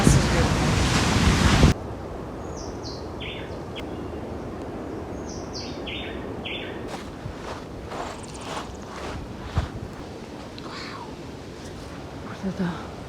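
Sea waves crash on the shore at Tayrona Park in Colombia, a loud windy surge at first, then a steadier rolling wash, with light bird calls and faint wind buffeting.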